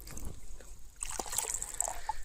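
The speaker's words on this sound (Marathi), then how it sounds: "बाटलीत शिल्लक राहिलेलं पाणी आपण सगळं त्या जारमध्ये ओतून घेणार आहे" Leftover water from a bottle trickles faintly into a jar while panchagavya is prepared, a soft, thin dribble close by.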